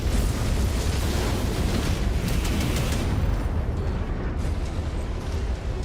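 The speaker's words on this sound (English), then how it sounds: "Gauss rifle." A Gauss rifle firing in the MechWarrior 5: Mercenaries video game: a loud, close roaring blast of heavy broadband rumble that holds for about three seconds, then eases into a lower, fading rumble.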